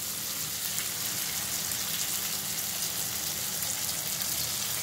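Brahmi leaves sautéing in a pan for kulambu, a steady, fairly quiet hiss of frying that stays even throughout, with no voices.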